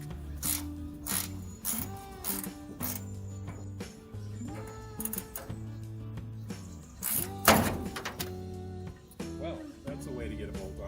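Bolts are worked loose from the hood of a 1958 Plymouth, with ratchet clicks, metallic clunks and scraping heard close up under intermittent talk.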